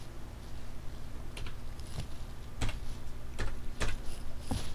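A computer keyboard is typed on in a handful of separate, sharp clicks spread across a few seconds over a low steady room hum.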